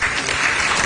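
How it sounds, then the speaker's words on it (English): Audience applause at a formal political gathering, a brief wash of steady clapping from a crowd, continuous and even with no voices standing out. "another big round of applause?"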